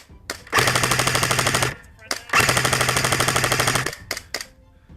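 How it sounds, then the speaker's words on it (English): Airsoft RPK machine gun firing BBs in two long sustained bursts of rapid, rattling shots, loud and close, with short gaps and a few single pops between. "They probably didn't know we were over here until the RPK opened up."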